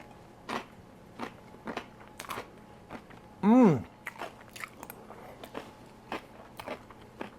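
Crunchy bites into a toasted ham and cheese sandwich, close and fairly soft, with small crackly chewing sounds scattered around one brief louder burst near the middle.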